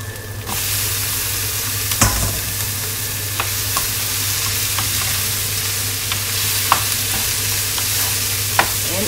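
Pork belly for dinuguan fries in a pan with a steady, loud sizzle and crackle throughout, punctuated by a few sharp pops and taps of a utensil.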